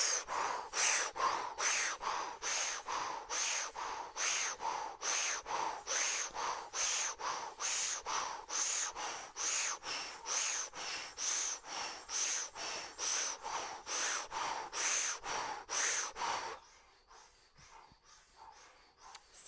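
Breath of fire from a Kundalini yoga practice, fast rhythmic breaths pushed through a rounded O-shaped mouth, dozens of sharp even pulses close up for about sixteen seconds before stopping into near quiet.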